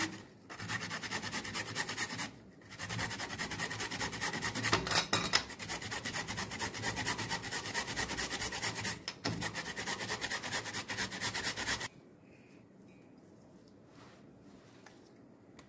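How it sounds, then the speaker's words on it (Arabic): Carrots grated by hand on a grater give a steady, close rasping of continuous rubbing strokes, briefly pausing twice before stopping, leaving quiet room tone and no talking. "هنبشر الجزر اهو زي ما انتم شايفين"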